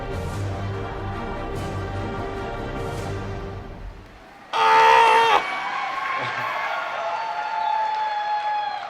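A large audience at the BlizzCon 2018 opening ceremony erupts in a loud burst of cheering and whooping that swells suddenly after dramatic orchestral music, then settles into sustained crowd noise under the music.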